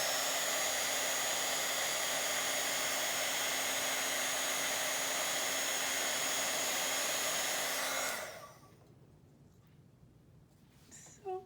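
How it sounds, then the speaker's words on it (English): A crafting heat tool blows hot air in a steady, loud whir for about eight seconds, then cuts off, leaving quiet room tone and a brief soft knock at the end. "Now that the heating tool is heated up"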